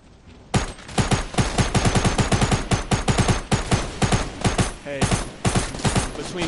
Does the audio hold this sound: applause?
no